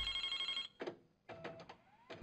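A telephone rings in Resident Evil 2, two short ringing bursts with a gap between, fairly faint and heard alone.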